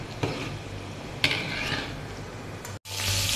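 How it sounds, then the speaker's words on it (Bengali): Capsicum lightly frying in sauce for pasta, a steady loud sizzle in a pan with a few scraping stirs, briefly cut off near the end before resuming. "ক্যাপসিকামগুলো হালকা একটু ভেজে নিচ্ছি সসে"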